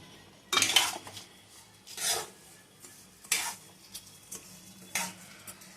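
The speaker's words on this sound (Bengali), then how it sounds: "দিয়ে আবার একবার চালটাকে নেড়ে নেবো।" Rice for pulao being stirred in a pot, several separate scraping bursts of utensil against metal with brief pauses between, close and fairly quiet over a soft background.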